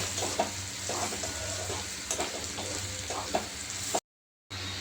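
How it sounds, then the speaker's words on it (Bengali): Chili powder, garam masala and Kashmiri chili stirred into frying minced chicken filling for keema paratha, a steady close sizzle with rhythmic scraping strokes of a spatula, then a short break of silence. "এবার মশলাগুলো এর সাথে মিশিয়ে নেব।"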